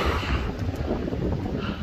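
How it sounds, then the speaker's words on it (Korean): Strong wind blows outdoors on a mountain during a mushroom-foraging hike, a steady, rough rush buffeting the microphone close up throughout, with no one speaking. "오늘 바람 많이 불어요"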